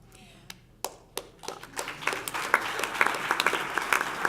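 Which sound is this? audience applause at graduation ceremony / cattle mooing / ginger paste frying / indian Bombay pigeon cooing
audience applause at graduation ceremony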